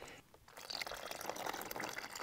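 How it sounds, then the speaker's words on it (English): Water poured into a meal ration heating pad bag in a flameless heater, a soft continuous splashing and trickling that starts after a brief pause and fills the rest of the short moment at a modest level. "You pop that in there, you fill it with water."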